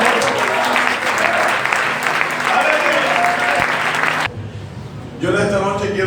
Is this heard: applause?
yes